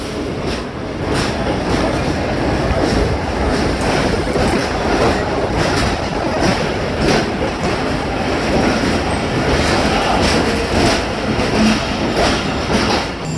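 The 28 Down Shalimar Express arrives at Karachi Cantt station with a loud, steady rumble of rolling railcars and faint wheel clatter throughout.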